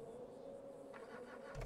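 A pickup truck engine cranks and catches on the first try in GTA V, a faint mid-pitched idle hum with a brief rise in rumble at the end.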